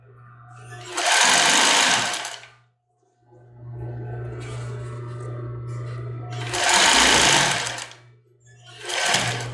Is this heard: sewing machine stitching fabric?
yes